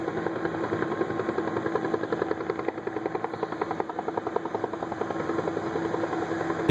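The Northrop Grumman LEMV airship on a test flight gives a steady, pulsing engine drone with a rapid rhythmic throb, constant and fairly loud throughout.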